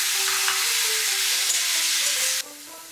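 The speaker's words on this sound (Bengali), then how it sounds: "টমেটোগুলো ছেড়ে দেব।" Diced medium tomatoes, four of them, hiss and sizzle steadily in hot oil for a date and tomato chutney, with faint scraping of a spatula, the frying cutting down sharply near the end.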